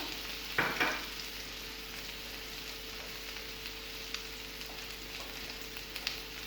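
Garlic paste sizzles and fries in a pan with a soft, steady crackle, quiet and close, broken early by a couple of brief clinks of stirring.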